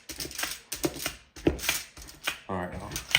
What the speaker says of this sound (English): I'm still gonna tenderize this one a little more